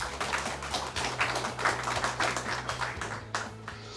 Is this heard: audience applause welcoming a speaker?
yes